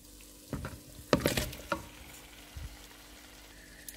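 Chicken with masala sizzling in a pan for biryani, a soft background hiss broken by several sharp scrapes and clatters of stirring, close and intermittent, with no speech.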